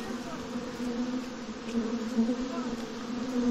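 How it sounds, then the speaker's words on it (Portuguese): Africanized honey bees in a swarm during an attack give a steady, close, droning buzz that holds throughout with slight swells in loudness. "Olha a abelha lá, cara."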